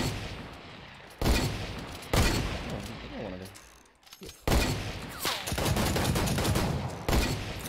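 Gunfire in a Wild West shooter video game: loud, close bursts of rapid shots and sharp cracks in several clusters, with mechanical reloading clicks in a quieter gap.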